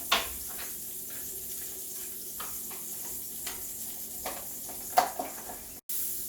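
Garlic butter sizzles in hot olive oil in a cooking pan, a steady crackling hiss with a few brief clinks and spatters, close and continuous before cutting out abruptly near the end.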